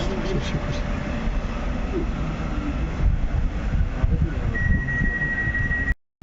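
Mazowiak passenger train pulling out of Łowicz Główny station: a steady, fairly loud rumble of rolling stock with broadband noise and some wind buffeting, a thin tonal whine late on, then an abrupt cut.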